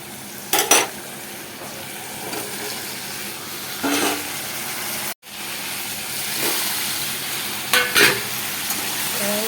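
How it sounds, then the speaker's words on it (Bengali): Potatoes sauté in a pan with spices and turmeric, a steady sizzle with a spoon stirring and scraping against the pan in several bursts, close and moderately loud, no talking. "আর তার সাথে আলুগুলো দিয়ে ভালো করে কষিয়ে নেব"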